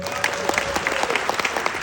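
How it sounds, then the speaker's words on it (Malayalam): A theatre audience at the Esplanade claps during a live stage performance, producing a dense, steady burst of many hands that lasts under two seconds with no speech over it. "കൈയടിക്കാമോ?"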